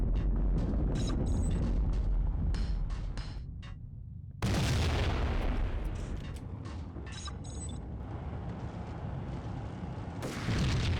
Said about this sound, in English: Alright, I'll use a grenade.